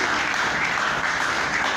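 Church congregation claps in loud, steady applause, a dense continuous patter filling the whole short stretch with no voices.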